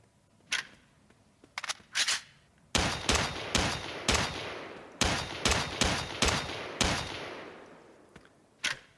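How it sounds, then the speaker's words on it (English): Semi-auto rifle gunfire in The Last of Us modded game, a few scattered sharp shots followed by a fast, evenly spaced string of loud cracks, then one last isolated shot. "I added a semi-auto rifle to my game."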